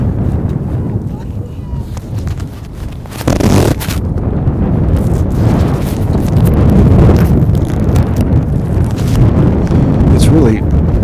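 Strong wind buffets a microphone outdoors on a blustery city street, a constant low rumble with sharper gusts and knocks throughout.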